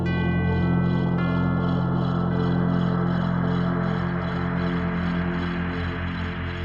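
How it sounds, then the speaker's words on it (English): Synthesized sleigh bells and church bells in a festive modular patch: a dense, steady wash of shimmering jingle texture over sustained low tones, with a rhythmic pulsing layer entering partway through, loud and continuous without any voices. "I want to replicate some sleigh bells and maybe add some church bells and then build an atmosphere around that"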